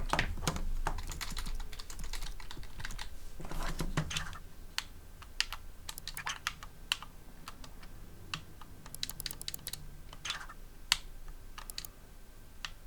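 Quiet keystrokes on a PC computer keyboard come in quick irregular bursts with short pauses between them, close and alone.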